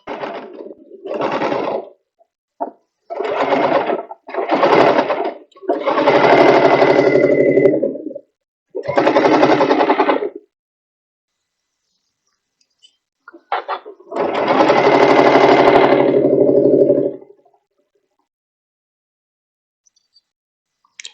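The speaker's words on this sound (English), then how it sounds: "we're going to come over to the machine and we're going to stitch that." Sewing machine stitching a cutwork pillowcase, loud close mechanical whirring in several bursts of varying length, from short spurts to runs of a few seconds, separated by silences.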